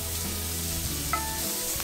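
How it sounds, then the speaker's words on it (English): Steak bites sear in an oiled skillet over medium-high heat, a dense continuous close sizzle with a brief clink partway through and no talking. "Now we want to sear these steak bites."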